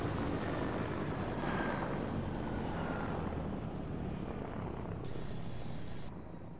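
Helicopter in a video game roaring overhead with a steady, loud rotor and engine drone that fills the scene alone before dropping off near the end.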